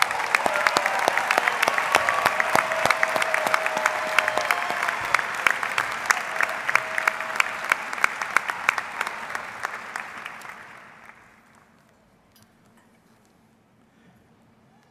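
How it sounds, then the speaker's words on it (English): A large graduation audience applauds new doctoral candidates at an August 2021 graduate ceremony, with loud, dense clapping for about ten seconds that thins into scattered claps and then fades to near silence. "Give our new doctoral candidates a big round of applause."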